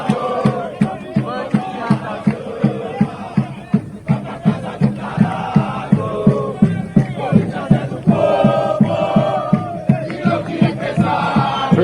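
Corinthians supporters in a packed stadium sing a loud, sustained chant, with steady rhythmic drum beats pounding under the massed voices throughout.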